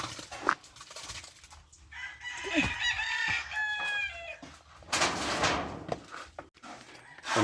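A rooster crows loudly nearby at a fence-building site, one drawn-out cock-a-doodle-doo in the middle, with clucking fowl and clattering work noises around it and no talk.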